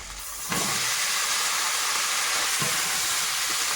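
Potatoes dropped into hot oil in a pan, a loud steady sizzle bursting in suddenly after a brief quiet start and holding strong to the end, with faint scraping touches underneath.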